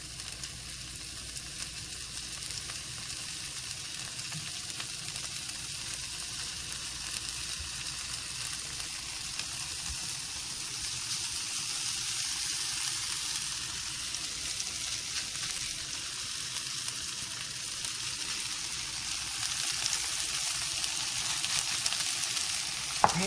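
Potatoes frying in butter in a pan for potato cakes, a steady broadband sizzle that holds evenly throughout at close range, with no talking.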